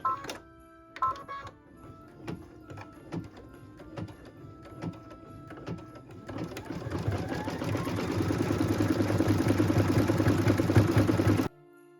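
Sewing machine stitching sparkly thread onto a Christmas tree skirt, starting with a few short bursts of stitching and then running steadily and loudly for several seconds before stopping.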